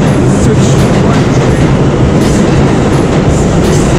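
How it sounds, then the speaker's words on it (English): A New York City Number 2 subway train roars loudly and close by, with steady rumbling wheels and a clickety-clack rhythm on the rails, no talking. "This is my train, I get on now to drop down. Number 2 train,"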